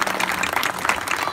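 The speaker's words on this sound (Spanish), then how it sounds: "¡Un aplauso!" Audience applause at the inauguration of a renovated park in the Colonial City, a steady wash of clapping from a crowd with a faint voice or two mixed in.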